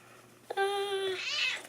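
A pet cat gives a single clear, close meow with a rising, drawn-out tone, heard alone in a quiet room.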